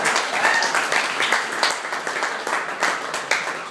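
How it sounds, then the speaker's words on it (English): Applause for a speaker at an evening dinner event, a steady wash of many hands clapping with scattered louder claps, sustained and fairly close throughout. "How about another round of applause for Alex"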